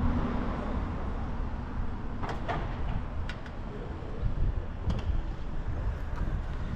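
Wind blows steadily and roars across the microphone outdoors on the coast road to Terracina near Monte Circeo, a constant close rush with a few faint clicks and no voices.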